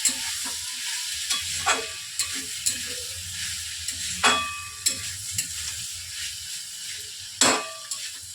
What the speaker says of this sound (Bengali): ঢাকা তুলে নিয়ে আবার নাড়ছি।